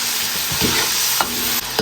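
Scallion and ginger hit hot oil in a wok along with pickled chilies and caramelized sugar, giving a loud, steady close sizzle with a few brief scraping stirs of the spatula.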